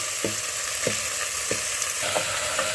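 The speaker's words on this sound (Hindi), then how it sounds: "देखिए ऐसे इसको चलाते हुए भूनेंगे।" Marinated mutton and onions frying on high flame in a nonstick pressure cooker, a loud continuous sizzle with regular scraping strokes of the stirring spoon, no talking.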